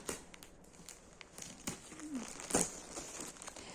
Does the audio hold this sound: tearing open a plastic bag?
yes